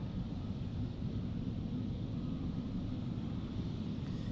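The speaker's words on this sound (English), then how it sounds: "We're now just waiting for this Emirates Sky Cargo to spool up and begin its journey over to Dubai World Central" An Emirates SkyCargo freighter at Amsterdam airport spools up its engines, a distant low rumbling roar that holds steady and even throughout, with wind buffeting the microphone and no voices.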